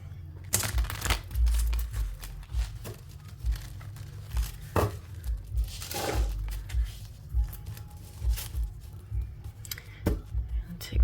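Tarot cards being shuffled by hand, irregular riffles and soft papery slaps and flicks coming in uneven bursts, close and fairly quiet.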